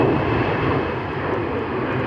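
A Pegasus Airlines jet with a yellow tail departing for Istanbul from Manchester on a stormy day, its engines giving a loud, broad, steady roar up close for about two seconds.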